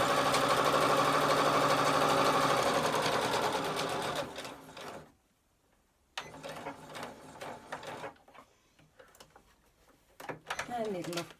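A Butterick EB6100 sewing machine stitches along a zip for a coin purse, running with a steady, close whirr for about four seconds before stopping. Scattered mechanical clicks follow, and a voice talks.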